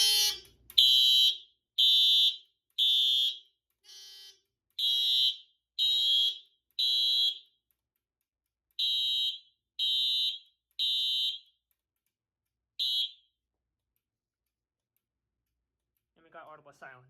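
Simplex 4100+ fire alarm with addressable TrueAlert sounders going off, loud piercing electronic tones in a regular on-off pattern of about a dozen bursts that stop midway, followed by silence and then a brief voice at the end.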